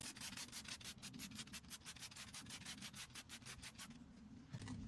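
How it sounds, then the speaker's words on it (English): A hard wheel brush scrubs a very dirty car wheel with rapid, regular back-and-forth rubbing strokes, close and steady, before stopping near the end. "we'll scrub with hard wheels brush"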